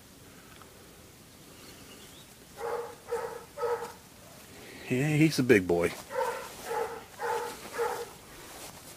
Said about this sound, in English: I suppose you can hear Philo barking back here in the background.